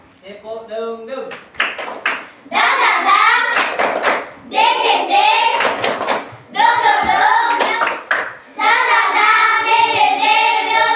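A classroom group performs a rhythmic clapping chant, sharp hand claps and taps in bursts mixed with children's voices chanting along, loud and close throughout.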